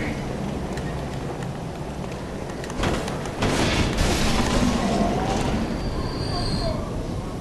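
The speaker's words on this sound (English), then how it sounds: "And it is really windy here." Wind blowing through a level of the video game Bloodborne: a steady, broadband gusting roar that swells louder around the midpoint and keeps going without a break.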